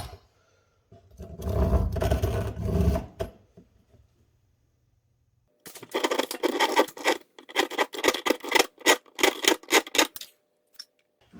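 A Dremel-type rotary tool with a very sharp, coarse blade cuts through a plastic car turn signal housing. A harsh grinding burst of about two seconds is followed by a pause, then a longer choppy stretch of rapid cutting bites, close up.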